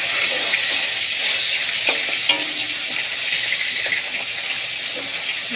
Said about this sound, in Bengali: মাছটা একটু এদিকটা একটু ভাজা হয়ে যাবে